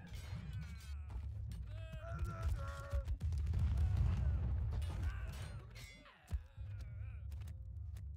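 Cannons in the battle game TABS fire in a rolling series of booms and impacts amid chaotic in-game battle noise, with a few sharp tonal effects layered over the low rumble.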